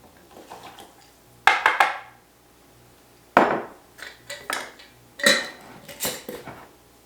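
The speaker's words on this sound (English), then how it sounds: "I'm just going to mix that around, help dissolve that." A utensil stirs salt into lukewarm water in a bowl to make kimchi brine, giving sharp, irregular clinks and scrapes against the bowl in clusters of knocks with short quiet gaps between.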